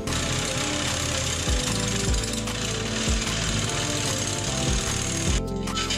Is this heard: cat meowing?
no